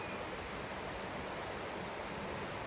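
Waterfall at Old Mill Park gives a steady, even rush of falling water, continuous and fairly soft, with no voices over it.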